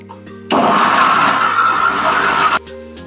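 An Indian mixer grinder roars loudly for about two seconds as it grinds herbs and spice paste with water, starting and stopping abruptly, with quiet kitchen background before and after.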